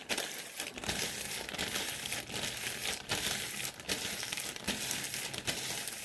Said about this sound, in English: So plastic bag it in.